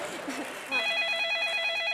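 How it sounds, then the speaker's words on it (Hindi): A phone rings in a TV comedy sketch, a steady high repeating electronic tone starting partway through and continuing under someone talking. "अरे मेरा फोन आ रहा है, एक सेकंड।"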